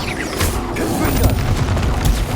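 A Confringo blasting spell going off in Hogwarts Legacy amid steady combat noise, with loud booms and crunching impacts packed into a short, continuous burst.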